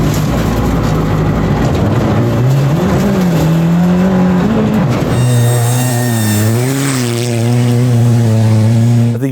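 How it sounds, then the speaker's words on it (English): A Ford Fiesta ST two-wheel drive rally car runs a speed run, its engine loud and close with rising and falling revs through gear changes, a sharp upshift midway, and possible tyre squeal. "in the Ford Fiesta ST, two-wheel drive car"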